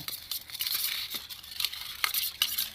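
Cauliflower being stirred and mixed with coriander powder, turmeric and spice paste in a pan for a vegetarian roast, giving steady scraping and clinking of a spoon against cookware with soft wet patter throughout.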